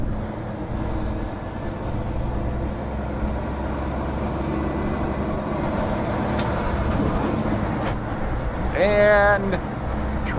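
City traffic rolls steadily past a truck cab on a snowy winter road in northeast Ohio, with a continuous engine rumble, a few sharp clicks and a brief rising whine near the end.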